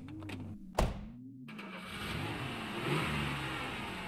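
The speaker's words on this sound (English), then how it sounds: "Is that your car?" A car engine revs and rumbles in a mid-range tone after a sharp thud, rising gently in loudness toward the end, fairly faint and without talk.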